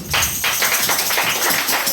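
Steady applause from a church congregation, a dense continuous patter of clapping that stays even in loudness throughout.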